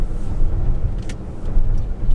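A 2007 Ford F-150 XLT SuperCab 4x4 with a 5.4-liter V8 drives along, a steady low engine and road rumble from inside the cab with a faint brief squeak, no talk.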